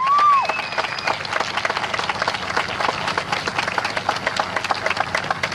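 A crowd claps steadily and cheers for WWII veterans at a Purple Heart presentation for LST 393, opening with a short whistle and then dense, even applause throughout.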